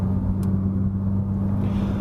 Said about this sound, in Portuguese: Eu achei que o escapamento até que tá tranquilo para viajar.